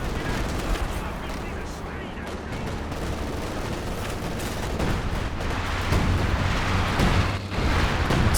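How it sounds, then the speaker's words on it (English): A Katyusha rocket artillery barrage in Company of Heroes 2 on the Oka River map, a dense rumbling roar of launches and impacts that swells toward the end under excited commentary. "Once again, the assault artillery coming in. Doesn't seem to have hit too much though. Oh, big Katyusha barrage!"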